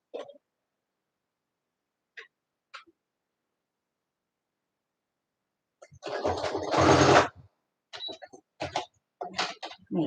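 A sewing machine stitches through many layers of fabric and doubled seam allowances in a short, dense burst of close mechanical whirring, after long silence and between a few faint sounds.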